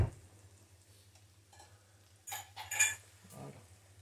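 Potatoes, cooking for a confit alongside a caper chicken supreme, being turned over in a pan with a few quiet clinks and scrapes of a utensil against a low steady hum.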